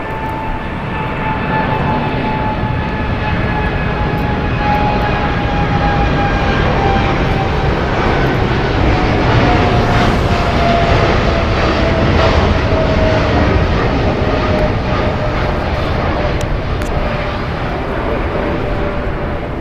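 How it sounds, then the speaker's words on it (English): An Atlas Air Boeing 747-8 freighter thunders down the runway at LAX on takeoff, a loud, sustained jet roar with a high engine whine that slowly drops in pitch, heard close from beside the runway. "We're going to have Atlas Air depart here on the closest runway to us"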